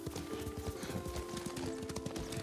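Steady rhythmic clip-clop of horse hooves at a trot in the video game Ghost of Tsushima, close and continuous, with a faint tonal hum in the background.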